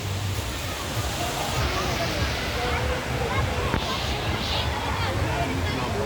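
Taytay Falls waterfall in Majayjay, Laguna, roaring as a steady broadband rush of falling water, with crowd chatter blended into the noise throughout.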